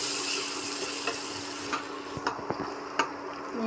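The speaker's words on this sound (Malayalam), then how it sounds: "ശകലം മഞ്ഞൾപ്പൊടി ഇട്ട് കൊടുക്കാം. ശകലം മുളക് പൊടി, ശകലം മല്ലിപ്പൊടി. ഇതൊന്ന് മൂപ്പിച്ചെടുക്കാം." Turmeric, chili and coriander powder frying in oil in a pan for rasam, a steady soft sizzle under faint spoon scrapes and light clicks against the pan, no talking.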